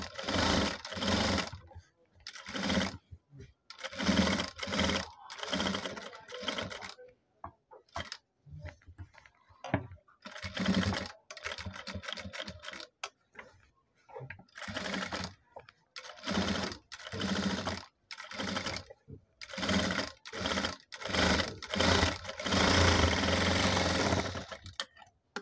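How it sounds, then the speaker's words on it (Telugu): Sewing machine double-stitching a patchwork designer blouse: rapid mechanical stitching runs in short and long bursts with frequent pauses, close and steady throughout. "డబుల్ స్టిచ్ చేసుకోవాలి."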